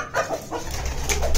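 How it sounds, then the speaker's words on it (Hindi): Desi hens cluck and coo close by in a few short bursts, with some low rumbling noise underneath. "ये देखें हमारी देसी मुर्गियां आ रही हैं पीछे"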